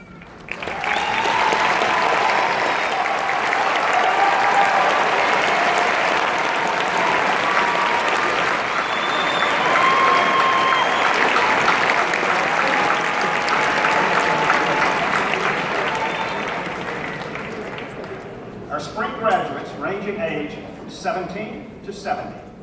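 Sustained loud applause fills a university commencement hall as honors graduates stand, a dense steady clapping wash lasting many seconds before tapering off into a few scattered claps and a voice.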